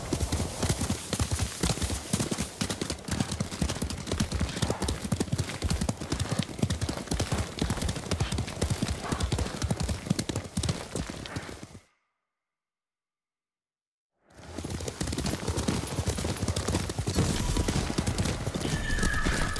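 Horses gallop in Ghost of Tsushima with a dense, continuous drumming of hooves and an occasional whinny. The pounding stops for a couple of seconds of silence, then resumes just as loud.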